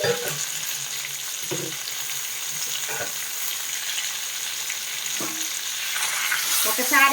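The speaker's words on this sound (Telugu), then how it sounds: "అన్ని మామిడిపండు ముక్కల్ని మిక్స్ చేసుకోవాలి" Mango pieces are stirred together in a cooking pot for a Nellore-style mango pulusu. A soft sizzle runs throughout with scraping stirs, and a voice briefly speaks.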